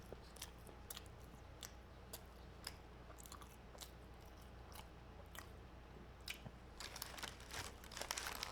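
Someone bites into and chews crunchy Wingstop chicken tenders at a close microphone, sharp crackling crunches recurring through the clip and growing busier toward the end, with no talking.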